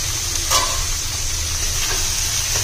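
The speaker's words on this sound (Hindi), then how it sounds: "इस प्याज को इसके साथ हम 2 मिनट भून लेंगे" Bitter gourd and onion fry in a pan, giving a steady close sizzle and hiss with a few soft stirring knocks and no voices.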